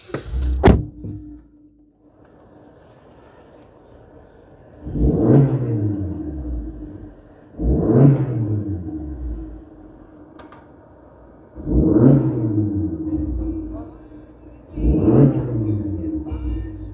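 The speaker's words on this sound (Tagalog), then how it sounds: "We'll start so you can check out the sound of the exhaust." A 5-door Suzuki Jimny with an exhaust fitted with a titanium tip gives four deep, rumbling revs, close and loud, each rising and then easing back to a low idle between them.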